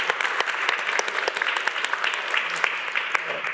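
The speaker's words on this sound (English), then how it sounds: "I will actually make a round of applause to our panelists." Dense applause from a workshop audience thanking the panelists, many hands clapping continuously at a fairly even level, close and busy, with no voices standing out.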